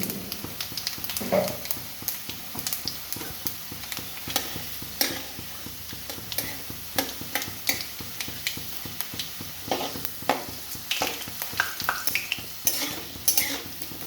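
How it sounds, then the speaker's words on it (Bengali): Potatoes fry in hot oil seasoned with dried red chilies, a bay leaf and panch phoron, a busy sizzle broken by frequent scraping and clattering of a spatula against the pan, with no talking. "আলুটা আমার ভাজা হয়ে গেছে"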